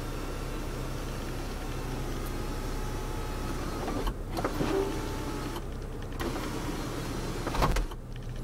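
The sunroof motor of a 2015 Jeep Grand Cherokee Limited Ecodiesel whirs steadily as the roof opens, a close, even electric hum with a few faint clicks and thumps partway through.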